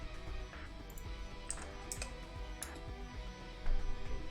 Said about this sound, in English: apologies if the keyboard is really loud